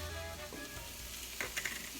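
Minced garlic sizzles in a pan with vegetables and corn while being stirred, giving a soft, steady frying hiss with a few quiet scraping and tapping sounds from the stirring.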